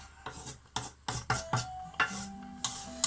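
A small spatula scrapes across a pan to deglaze it while making bolognese, giving about six distinct, close scraping strokes in an irregular rhythm with no talking.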